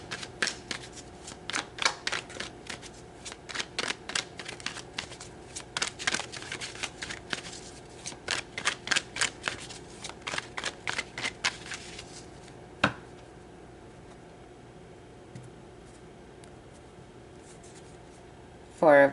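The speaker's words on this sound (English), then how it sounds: "So let's pull some more cards." Tarot cards are shuffled in a quick rhythmic run of crisp riffling bursts, close and fairly soft, which stop partway through and leave near quiet with a single later tap.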